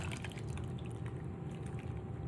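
Liquid, apparently the brown gravy with onion soup mix, is poured over meat and potatoes in a crockpot, giving a soft, steady splashing pour that stays faint and close throughout.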